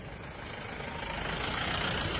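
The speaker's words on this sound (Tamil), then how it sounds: "ஒரு லாரி வருது, அந்த லாரியோட பொசிஷனை பாருங்க." A heavy lorry rolls toward the listener on a road scarred by a deep pothole, its broad engine rumble and road noise swelling steadily louder as it nears.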